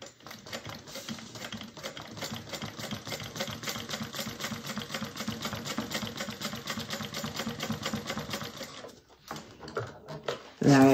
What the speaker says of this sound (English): I'm going to come back down and I'm going to go right back over the same stitches